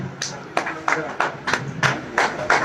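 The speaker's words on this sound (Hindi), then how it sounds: "तालियां एक बार फिर से।" An audience claps at an event for a house-maid ration kit distribution, with a steady burst of applause of moderate loudness and hand claps running together throughout.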